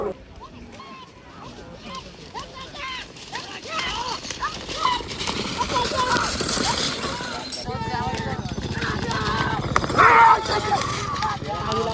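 Hooves of racing bullocks clatter and thud in a rapid galloping rhythm at a bullock cart race amid a loud crowd, with excited shouting and commentary rising over the racing noise.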